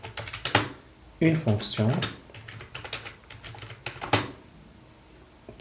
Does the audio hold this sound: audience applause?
no